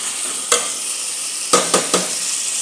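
Vegetables stirred in a cooking pan over a steady sizzle, with a sharp scrape near the start and three quick scraping strokes close together toward the end.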